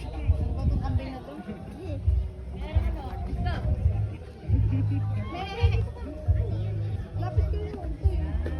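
A young goat bleats repeatedly among a gathering of people, its cries rising above a constant background of chatter and talking voices.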